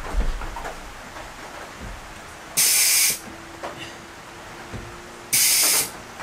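A pneumatic brad nailer run from an air compressor, used for secret nailing through the tongues of veranda floorboards, gives two short, sharp bursts of air hiss separated by quiet gaps.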